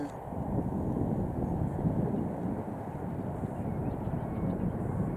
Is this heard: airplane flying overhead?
yes